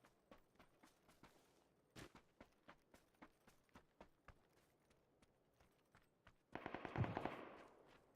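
AK rifle fire in the battle-royale game PUBG: a steady stream of distant single shots, then a closer, louder burst of rapid automatic fire near the end, with no talk.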